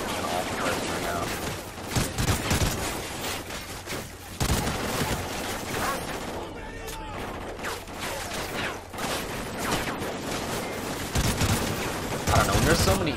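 Gunfire in the Call of Duty: Ghosts campaign, dense bursts of shots and explosive cracks running throughout, loud and busy, with someone talking over the action.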